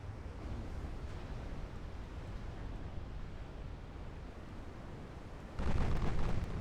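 Naval gunfire from 8-inch guns in a battleship game, heard as a continuous deep rumbling roar of distant shelling that swells into a louder, harsher burst near the end.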